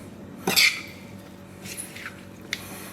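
Spoon stirred through a shrimp salad with cucumber and lime in a bowl, giving a few brief, close clinks and soft wet squishes against the dish over a quiet room.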